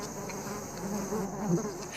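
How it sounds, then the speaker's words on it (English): A dense, close buzzing of many bees swarming out of a hive in a marula tree to defend it, humming continuously at a steady pitch. "arouses the bees. They swarm out to defend their hive"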